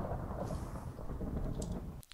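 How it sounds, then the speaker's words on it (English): Rain and rolling thunder in the Minecraft video game make a continuous low rumble with steady rainfall hiss that breaks off abruptly near the end. "Rain already?"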